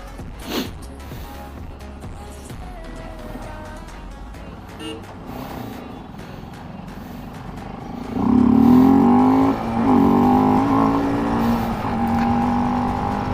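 A Bajaj Pulsar RS200 motorcycle on a night street ride, its engine droning steadily at first, then rising into a louder, sustained exhaust roar as it accelerates, with a brief sharp sound near the start.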